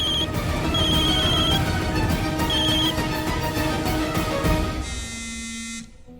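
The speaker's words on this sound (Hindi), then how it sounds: "अब दादी का कॉल आ रहा है" A phone ringing with an incoming call from grandmother, its repeated electronic ring tone playing over loud dramatic TV-serial background music before cutting out near the end.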